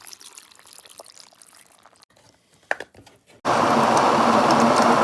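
A blender whirs loudly and steadily as it blends an apple smoothie with dates, honey and milk, starting abruptly after quiet kitchen clatter and a few knocks.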